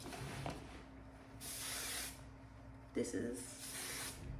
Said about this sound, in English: Take some of my hairspray.